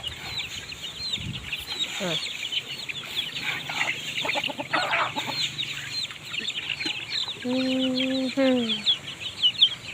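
Chickens and ducks being fed in the evening at a rural home in Thailand cluck and call repeatedly at moderate distance, with a few higher squawks near the end over steady outdoor background noise.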